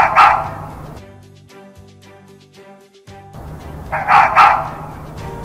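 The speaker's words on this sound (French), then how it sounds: "Les renards." A fox gives sharp barking calls at the beginning and again near the end, separated by a quieter stretch of soft tonal background sound.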